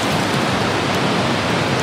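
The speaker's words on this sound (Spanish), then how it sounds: "Y ahora nos está lloviendo." Steady rain falls as an even, dense hiss, close and constant across the short span, with no talk.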